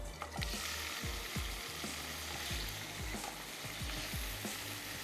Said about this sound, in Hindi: झींगे शामिल कर लेते हैं